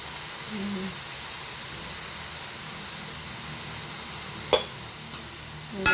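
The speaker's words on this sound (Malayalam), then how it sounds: "നല്ലോണം വഴറ്റുക ഉള്ളിയും തക്കാളിയും നല്ലോണം വഴറ്റുക" Onions and tomatoes sizzle in a pan as they are sautéed, a steady soft hiss running throughout with a couple of brief clinks near the end.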